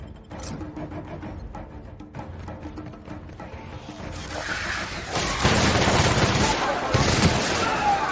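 Rapid gunfire in a shootout from The Outer Worlds, the bursts growing louder and denser in the second half under game music and effects, with a voice talking early on.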